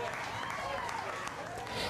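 Scottish independence supporters cheer and clap at a referendum night gathering, a faint crowd roar with scattered applause under a voice speaking over it.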